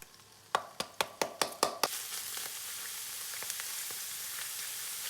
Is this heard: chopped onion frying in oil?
yes